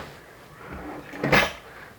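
A wardrobe drawer in a contemporary minimalist apartment interior slides and bumps shut, a short wooden knock and rumble rising after a quiet stretch, then fading back to room tone.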